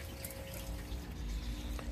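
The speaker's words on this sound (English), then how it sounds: "Water's still pouring into here though." Water pours steadily into fish tanks with a soft, continuous trickling rush that stays faint and even throughout.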